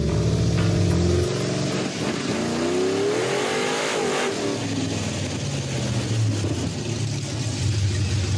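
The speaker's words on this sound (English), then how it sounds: "the engine sounded great" A 1967 Dodge Dart drag car's engine gives a loud, sustained roar with rising and falling revs, the pitch sweeping up and down as the throttle opens and closes on a stationary dyno run.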